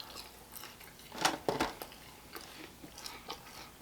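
Crunchy fried boneless chicken wings in a whiskey glaze are bitten with a couple of sharp crisp crunches, followed by softer, quieter chewing close to the mouth, with no voices.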